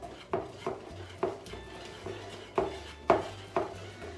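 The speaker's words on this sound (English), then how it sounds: "Now we add it to the mixture. And we whisk it up." Whisk strokes against a bowl of cake batter, with about ten irregular clinking and scraping taps spaced roughly every half second, moderately close and fairly quiet, with no talking.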